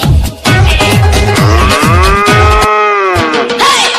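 A single cow moos loudly and close by in one long, sustained bellow that rises and falls, set over a steady, rhythmic thumping beat.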